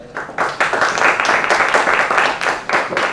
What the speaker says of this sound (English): please join me in welcoming with a round of applause Mr. Neville Shah